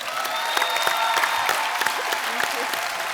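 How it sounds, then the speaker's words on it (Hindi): Studio audience on a comedy talk show applauding steadily, a dense continuous clatter of clapping with crowd murmur and no pauses. "भारत श्रीलंका के प्यार के लिए बहुत बहुत तालियां।"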